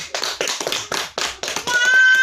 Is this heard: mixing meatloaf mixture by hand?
no